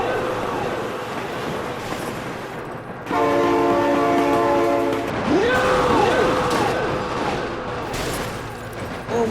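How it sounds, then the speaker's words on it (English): A train in the BeamNG driving game sounds a loud sustained horn chord over rumbling engine noise, followed by squealing, sweeping tones as it rolls on. "Oh my god, train!"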